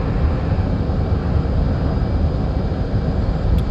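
An F/A-18 Hornet jet roars in afterburner in the DCS flight simulator, a loud, continuous broadband engine rush that holds steady throughout.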